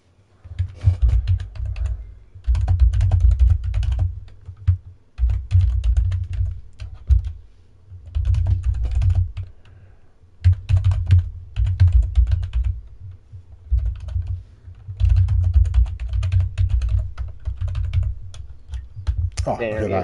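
Rapid keyboard typing in bursts, with short pauses between runs of keystrokes, fairly loud and close, over a low steady hum, with no talking.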